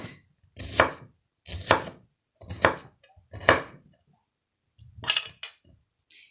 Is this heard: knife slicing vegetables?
yes